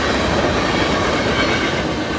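A freight train passes on the NS Chicago line close by, a loud, steady rumble of wheels and rail noise filling the whole moment without a break.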